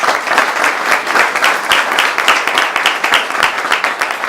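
Audience applause after a spring research presentation on permaculture, loud dense clapping from a close crowd, sustained evenly throughout without voices over it.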